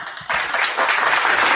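Clapping from a church congregation erupts after a brief pause and continues as dense, loud, steady applause without speech.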